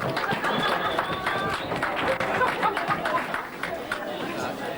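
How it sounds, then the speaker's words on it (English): Wedding guests clapping in a village hall, a mid-level burst of applause mixed with crowd chatter and cheerful murmuring, fairly close and continuous for a few seconds. "Big round of applause for Terry."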